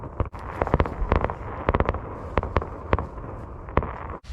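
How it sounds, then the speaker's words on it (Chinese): Fireworks explode outside on a freezing night, heard from inside a camper van as a rapid series of sharp bangs and crackles over a steady rumbling background, loud and close. "刚想做饭，突然放起了烟花来了"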